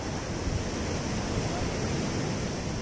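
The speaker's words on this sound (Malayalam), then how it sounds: "തിരമാലകളുടെ ആറുത്തിരമ്പുന്ന ശബ്ദങ്ങളും" Sea waves roaring onto the beach at Odayam near Varkala in the evening, a dense, continuous broadband wash of surf that stays loud and steady throughout.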